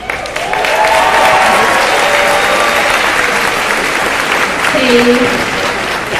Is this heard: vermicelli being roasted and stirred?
no